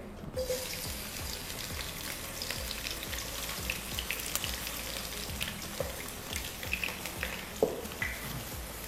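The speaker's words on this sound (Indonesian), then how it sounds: "setelah minyaknya panas, kita mulai tuang dari bawang putih dulu ya" Garlic frying in hot oil, a steady close sizzle with crackles and small pops running throughout, no voices.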